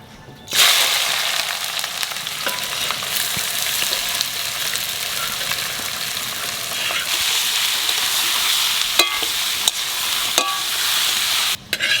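Onions drop into hot oil with whole garam masala spices and bay leaf and burst into a loud, steady frying sizzle. Stirring clinks punctuate it, and it cuts off abruptly near the end.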